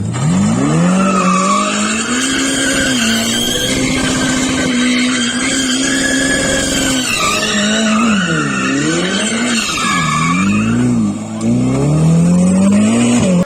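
A hybrid sports car races in Need for Speed No Limits, engine roaring at a steady high pitch before dipping and surging through several sharp rev changes, with tire squeal mixed in, loud and close throughout without speech.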